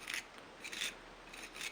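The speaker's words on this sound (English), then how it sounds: "You might find you need to just take the scalpel again and just gently scrape away" A scalpel blade scrapes gently at a wooden V joint to clean out the corner, three short rasping strokes close and soft with brief pauses between them.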